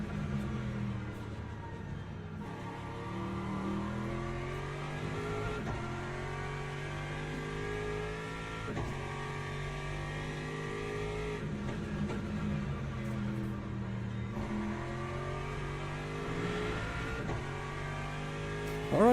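Aston Martin race car in Le Mans Ultimate at the Qatar circuit, its engine revving up and down through repeated gear changes, a steady close onboard drone rising and falling throughout.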